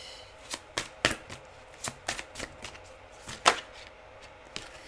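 A deck of oracle cards is shuffled by hand in irregular bursts of papery riffles and slaps, close and fairly quiet, with no talking.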